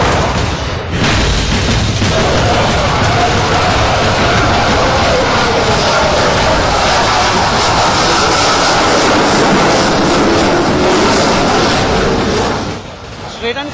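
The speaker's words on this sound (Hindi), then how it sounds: "ग्रिपेन स्वीडिश का एयरक्राफ्ट है और आप इसकी गूंज सुन सकते हैं" A Saab Gripen single-engine fighter jet roaring overhead at Aero India 2017, a loud broad continuous rumble that holds steady before tapering off near the end, with a voice talking over it.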